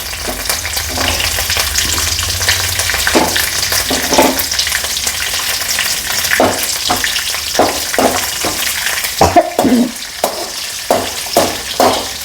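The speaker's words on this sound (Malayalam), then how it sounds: "ഈ പച്ചമുളക് എണ്ണ കിടന്നൊന്ന് മൂക്കട്ടെ കൂട്ടത്തിൽ നമുക്ക് എന്ത് ഇടാം കറിവേപ്പിലയും ഇട്ട് കൊടുക്കാം" Green chillies and curry leaves frying in hot oil, with a loud crackling sizzle and repeated spatula strokes that turn quicker and more percussive toward the end, close by and without talk.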